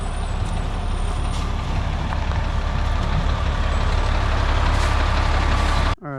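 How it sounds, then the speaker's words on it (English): A diesel chip truck pulls in at a farm tree job, its heavy engine rumbling loud and steady close by, with brief hisses and high whines over the drone before it cuts off abruptly near the end. "once he gets here with the chip truck, we'll set up"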